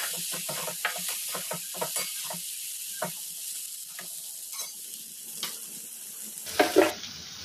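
Moth bean dal fries with spices as a spoon stirs it, with a soft sizzle under a run of quick scraping strokes that thin out, then a brief louder clatter near the end.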